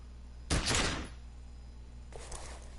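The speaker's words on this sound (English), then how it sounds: "The sound of the explosion from your gun echoes all over Martinez." A gunshot in the Disco Elysium video game: one loud sharp blast that rings out for about half a second and trails into a fading echo, followed by a softer rumbling reverberation.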